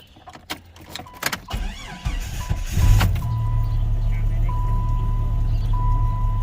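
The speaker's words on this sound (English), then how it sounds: "So we're gonna start it." An old Jeep with aging fuel cranks and catches, then settles into a steady, rumbling idle up close, with a faint tone over it and someone speaking near the start.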